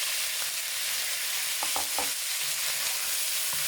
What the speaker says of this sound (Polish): I teraz najpierw dodaję tego mielone mięso.